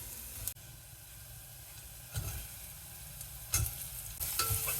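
Brinjal is stirred into spices frying in a pan, giving a steady soft sizzle with several scraping stirs and light knocks of the spoon at intervals.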